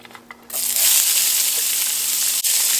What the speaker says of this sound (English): So now oil is hot. I'm going to fry onion.